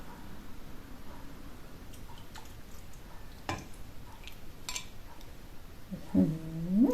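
A cat gives a short, wavering meow near the end, rising after quiet room noise with a few faint clicks and taps.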